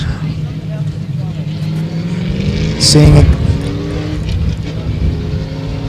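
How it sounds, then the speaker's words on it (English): A Group A Racing GTO race car engine runs loud and close on a hot pit lane, a deep steady rumble with a sharp revving burst midway, while people talk over it. "my ears hurt when the guys from Group A Racing fired up that GTO"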